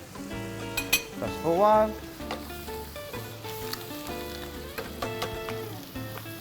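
Tomato marinara sauce cooks in a pan, giving a steady bubbling sizzle with scraping stirs and clinks of utensils, while a voice briefly speaks and background music plays.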